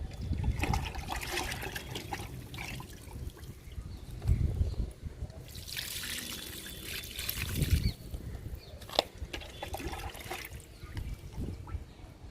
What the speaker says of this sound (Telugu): ఈ తోటకూర కూడా లిక్విడ్ ఇచ్చేద్దాము.